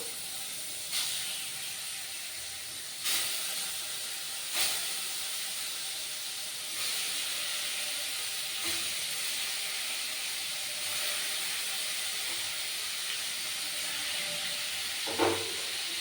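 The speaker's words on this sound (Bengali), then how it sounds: "শঙ্কর মাছ, এটা আমি লবণ হলুদ মাখিয়ে নিয়েছি। এবার আমি তেলে ছেড়ে দেবো।" Stingray fish coated in salt and turmeric frying in oil, a steady hissing sizzle with a few sharp pops and spatters over about sixteen seconds, no talking.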